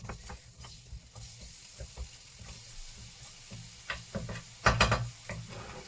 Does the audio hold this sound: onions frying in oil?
yes